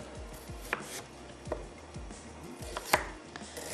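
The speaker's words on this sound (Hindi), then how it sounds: "यहाँ पर जो प्याज है इसको मैं कर लेती हूँ चॉप" An onion is chopped with a knife on a cutting board in a home kitchen, about a dozen close, crisp thuds in an uneven rhythm of roughly two per second, quiet and with no voices.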